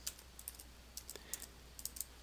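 Someone typing a web address on a keyboard in the Internet Explorer 11 app on Windows 8.1: a short, irregular series of faint, light key taps, close but quiet, with no voices.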